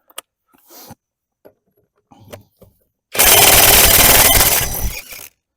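A Task Force heavy-duty impact gun loosens long-seated, tightly fastened nuts on a VW Beetle under restoration, giving one loud, sustained burst of rapid hammering lasting about two seconds after a few scattered clicks and small handling noises.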